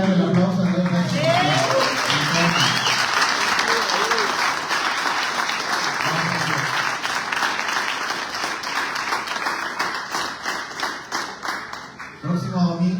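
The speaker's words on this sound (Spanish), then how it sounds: "Si quiere darle el aplauso a Dios" A church congregation at a Sunday service applauds in a long, dense burst that fades toward the end, and a voice speaks briefly over it at the start and again at the close.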